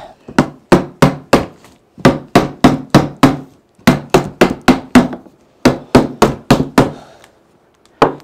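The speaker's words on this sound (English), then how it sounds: "Where's my little hammer now?" A small hammer taps on a lid in quick bursts of four to six sharp strikes, separated by short pauses, about two dozen hits in all, loud and close with no talking.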